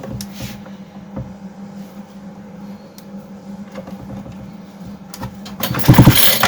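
A new Tekhmann CSG-2045 petrol chainsaw, prone to clattering and seizing, is cranked over during a spark check. A low mechanical hum carries scattered knocks and pulls before a louder, rougher burst near the end.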